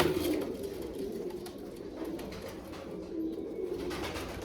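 Pigeons coo in a loft, a low murmuring chorus of soft throaty calls close by, with faint rustling.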